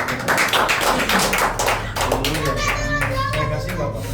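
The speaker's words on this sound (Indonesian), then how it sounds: "Kita tepuk tangan dulu semua dulu." An audience at a thanksgiving worship service for a company opening claps hands in a brisk, rhythmic burst at close range. The clapping gives way to voices talking over a low background hum.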